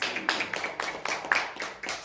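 A church congregation claps in a loose, rhythmic pattern of sharp hand claps, about eight beats in quick succession, moderately close with no one speaking.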